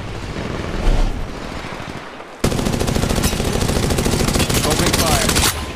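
Rapid automatic gunfire fills a combat video game, a sharp burst followed by a sustained, dense rattle of shots at close range with no talk.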